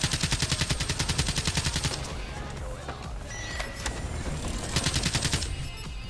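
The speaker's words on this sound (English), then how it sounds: "I didn't even know what I was shooting at" Rapid automatic gunfire fires in a video game of Black Ops 3, a loud, evenly pulsing burst at the start, a pause with scattered clicks and pings, then another fast rattling burst near the end.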